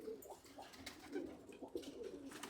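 Pigeons coo repeatedly at a bird market in Namangan, a soft low murmur of several birds layered over steady background noise, with no voices.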